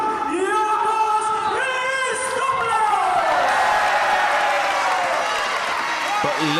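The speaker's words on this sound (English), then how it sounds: "But listen to the crowd roar for Yorgos." A crowd at a live wrestling tournament roars and cheers continuously, with whistling tones rising over the steady noise and an announcer's voice running over the top.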